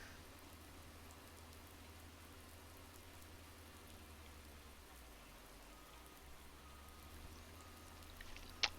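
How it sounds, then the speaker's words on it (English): Steady rain in a farming video game, a soft even hiss of falling drops that holds constant and fairly quiet throughout, with a small brief knock near the end. "Oh, the rain."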